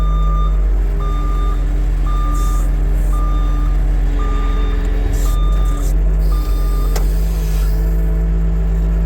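Truck's reverse alarm beeps at an even, repeating pace while the diesel engine idles loudly beneath, backing a trailer at a brush truck build site, with a brief air-brake hiss near the end and no talking.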